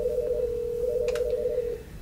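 A ShoreTel office desk phone gives off a steady tone that holds for nearly two seconds and then stops, with a few quick higher beeps partway through, fairly faint and with no talk.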